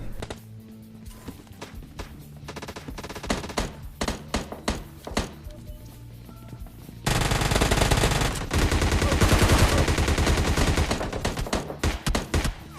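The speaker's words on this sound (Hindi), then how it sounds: "अब जरा देखना ये गन शॉट की आवाज़ कहाँ से आती है। अभी आएंगे आपको गन शॉट की आवाज़" Rapid bursts of gunfire from the PUBG Lite battle royale game, crackling in quick repeated shots through a building fight, sparser at first and then a dense, loud sustained volley with no talk.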